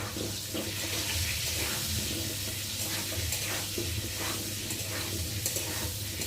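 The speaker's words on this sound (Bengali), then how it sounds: "যতক্ষণ না আলুটা বেশ লাল লাল করে ভাজা হবে," Potatoes frying in a pan with salt, cooking until browned: a steady, close, even sizzling hiss with small crackles, running without a break and without voices.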